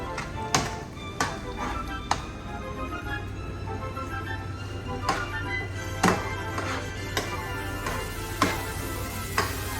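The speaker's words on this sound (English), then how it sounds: "Stir it around." Barilla pasta being stirred in a pot at a home stove, with irregular taps and scrapes of a utensil against the pot over a steady low hum and light sizzle.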